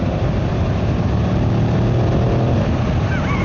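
A 2025 Yamaha MT-07 with Y-AMT rides in sport mode in fifth gear, its engine giving a loud, continuous drone mixed with heavy wind rush all the way through.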